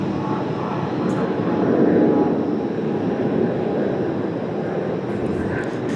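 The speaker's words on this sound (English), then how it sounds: "This Lufthansa coming up is headed back to Frankfurt." A 17-year-old Lufthansa Airbus A340-600 headed to Frankfurt, its four engines producing a broad, steady roar that swells slightly near the middle and then holds level, with a faint voice underneath.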